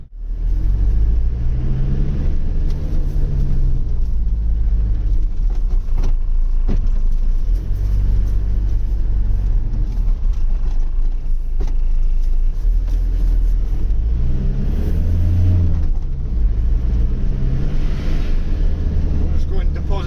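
A diesel recovery truck cruising at speed around 3,000 RPM, its steady low engine drone and road rumble loud and continuous throughout, with a voice heard talking over it at times.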